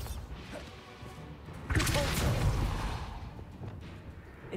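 A Bombarda spell blast lands in Hogwarts Legacy on PS5, a loud burst arriving midway with a crashing, rumbling tail that fades over a couple of seconds, with no talking.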